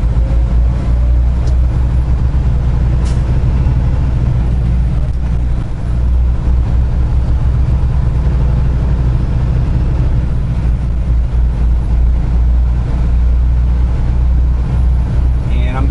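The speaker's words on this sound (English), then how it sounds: "Turn off the old Jake brakes so I can actually shift" A big truck engine rumbling with a deep, steady low drone while driving with the Jake brakes turned off, gear shifts barely distinct under the constant heavy engine noise and cab rattle.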